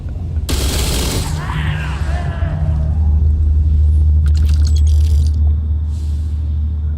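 Gunfire from a weapon in Starfield: Shattered Space, a burst of loud shots early on over a heavy, steady low rumble, followed by fainter rattling bursts later.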